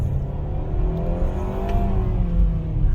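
A 2022 Mitsubishi Outlander SEL Touring Edition SUV engine pulls under acceleration, a steady loud low drone with a slowly rising tone heard from inside the cabin, with no speech.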